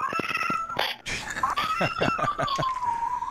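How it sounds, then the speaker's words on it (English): Game cat attacking in a video game: a run of loud, close yowls and hisses with a long rising-falling caterwaul, mixed with sharp combat clicks and thumps. "I'm going to fend off a cat here."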